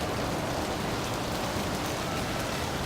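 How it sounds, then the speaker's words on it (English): Outdoor rainfall comes through as a constant broadband wash, thick and uniform, with drops pattering on foliage overhead; nobody speaks. "See the rain? It's raining."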